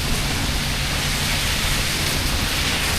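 First monsoon rain falling outdoors in Mumbai, a steady, dense hiss of rainfall that holds evenly throughout with no breaks.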